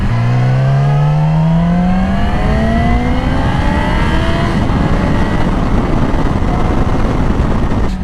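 A Yamaha R6 sport motorcycle with newly installed mods revs loudly and close, its engine note climbing in rising sweeps as it works up through the gear shifts, with no talking.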